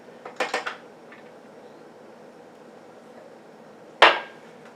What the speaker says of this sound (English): I always end up just dumping my ice in anyway.